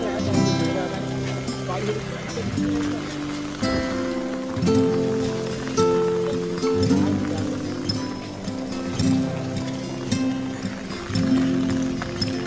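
Heavy rain falls in Rishikesh, a steady broadband hiss running underneath people talking and louder tonal sounds throughout.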